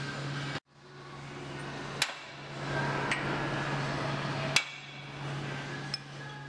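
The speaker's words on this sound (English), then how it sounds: "Clamp and transfer punch the hole locations onto the provided crossmember plate with the tabs facing" Sharp metallic taps from a hammer striking a transfer punch to mark hole locations on a steel crossmember plate during a fifth-wheel hitch install, four spaced clinks over a steady low hum.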